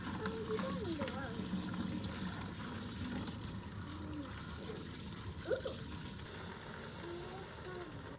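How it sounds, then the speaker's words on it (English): Tap water runs over canned beans being rinsed for homemade chili, a steady faint hiss and splash in a kitchen, with talking over it. "Get all the yucky, yucky preservative water off of the beans."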